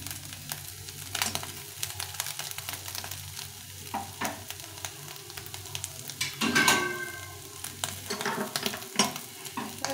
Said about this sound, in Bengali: এখন বাকি মাছগুলো ভেজে নেব